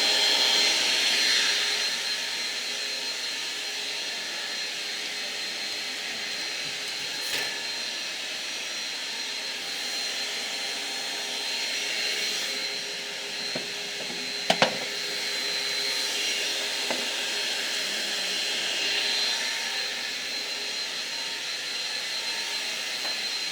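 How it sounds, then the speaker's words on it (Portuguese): An electric stand mixer whirs steadily and continuously while beating batter for a cornmeal and passion fruit cake in a kitchen, a moderate, even motor hum with a few brief clinks partway through. "Vou deixar a batedeira desligar para eu falar"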